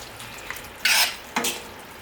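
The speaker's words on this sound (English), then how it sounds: "I'm going to hit that a stir." Curry shrimp stirred in a pot on the stove: a couple of brief scraping, clattering bursts of a spoon against the pot, fairly close, over a quiet background with no talk.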